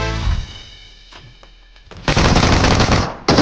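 Gunfire in the mobile game PUBG Mobile: a loud burst, a quieter lull with faint distant shots, then two heavy rapid automatic bursts close up.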